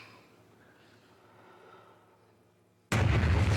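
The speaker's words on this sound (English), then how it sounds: "that was nice timing with the explosion" A sudden loud explosion in the film Oppenheimer bursts in after nearly three seconds of quiet low rumble and keeps roaring at full strength to the end.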